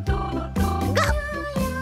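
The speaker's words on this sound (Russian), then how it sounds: "Собачка Гав-Гав." A cartoon dog in a children's animation about wooden toys gives two or three bright, close woof-like barks, with music underneath.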